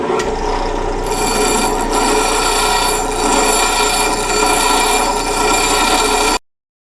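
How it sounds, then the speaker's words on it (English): A bench grinder's coarse wheel grinds down a weld, giving a loud, steady rasping whine that holds evenly for about six seconds before cutting off abruptly. "So let's go do the grinding. We're over here at my jet grinder, and this side is the coarse wheel"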